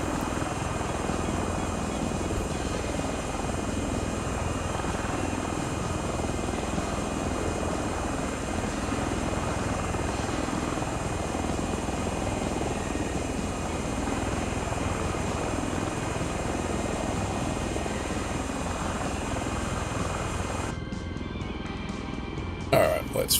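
Osprey tiltrotor aircraft in Microsoft Flight Simulator, a continuous droning engine and rotor roar at steady level with a faint tonal whine, ending with a brief cut and a few clicks.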